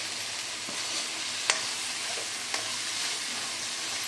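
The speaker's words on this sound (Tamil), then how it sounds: "எல்லாமே கொஞ்சம் நேரம் நல்லா கலந்து வதங்கட்டும்" Spices and masala, including chilli, coriander powder, fennel and curry leaves, sauté in a pan for a raw papaya and dried fish thokku, with a steady close sizzle and a few sharp scrapes of stirring.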